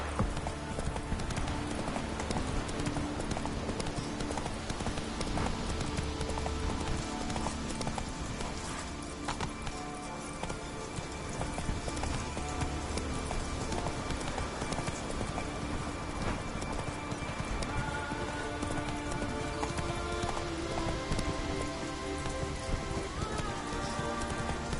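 Roach, the horse in the video game The Witcher 3, gallops in a steady, rhythmic clip-clop across about twenty-five seconds, set against dense game ambience and music at a constant moderate level.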